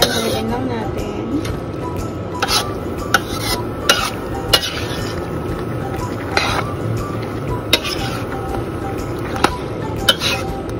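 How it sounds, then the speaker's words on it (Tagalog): Menudo is stirred in a pan with a utensil, producing soft scraping and occasional sharp clinks against the metal over a low simmering sizzle, with a voice talking throughout. "Ayan, haluin lang natin."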